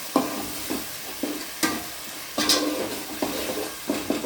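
Ground tomato paste sautés in a pan, a low sizzle broken by repeated rhythmic scraping strokes of a spoon stirring it, close and clear.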